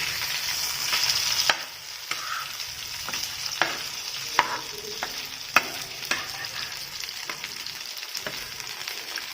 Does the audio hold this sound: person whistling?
no